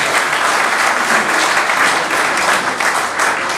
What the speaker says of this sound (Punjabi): ਇੱਕ ਵਾਰ ਫਿਰ ਇਹਨਾਂ ਸਾਰਿਆਂ ਲਈ ਬਹੁਤ ਜ਼ੋਰਦਾਰ ਤਾੜੀਆਂ